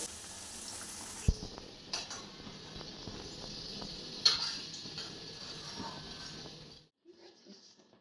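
Potatoes frying in oil on a stove set to medium-high heat, giving a steady close sizzle with a few small ticks and clicks, then stopping abruptly near the end.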